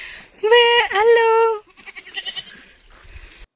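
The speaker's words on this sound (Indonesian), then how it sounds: "jadi ini kan kambingnya tetangga mertuaku" A neighbour's goat in a Turkish village gives two loud, close bleats in quick succession, followed by softer, choppy rustling and breathy sounds.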